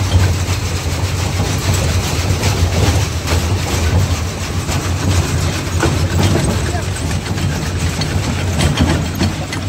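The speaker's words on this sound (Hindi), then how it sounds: "ये पूरी छोटी सी मशीन है" A small peanut digging and sieving machine with a front rotor runs in a field, its engine droning loudly and continuously with rattling, clattering mechanical noise throughout.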